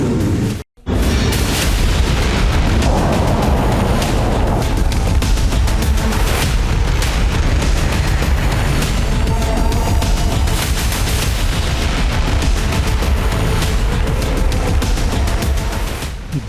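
Missile strikes in Tel Aviv and Haifa produce a dense, continuous roar of loud blasts and rumbling booms, one after another, sustained at full intensity throughout with no voices.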